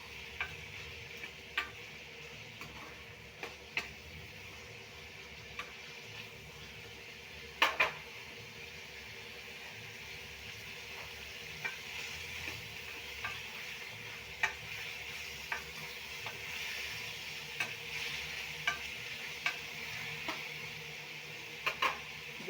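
Radish fries in a pan for a South Indian radish stew, giving a soft, constant sizzle with regular sharp taps and scrapes of a spatula against the pan.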